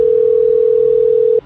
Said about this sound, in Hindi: तभी अभय को एक अनजान नंबर से फोन आया।